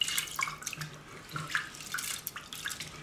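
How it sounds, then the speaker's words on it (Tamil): Tap water running into a clay pot of unpolished Kerala matta rice for washing, a soft continuous splashing and trickling with small bursts, close and fairly quiet, no talking. "ஸோ அதுக்கு தண்ணி ஆட் பண்ணிக்கிறேன். இப்போ இதை நல்லா வந்துட்டு கழுவி எடுத்துக்கலாம்."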